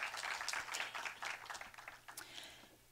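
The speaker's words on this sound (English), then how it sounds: "a huge round of applause for Las Fotos Project" Applause from an audience at a panel event, a steady wash of many hands clapping that holds for a few seconds and trails off near the end.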